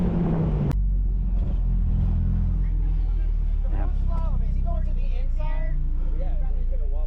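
An autocross car is driven hard through a cone course at Kil-Kare under the lights, its engine a loud, steady rumble with revving throughout, a brief sharp knock near the start and faint voices underneath.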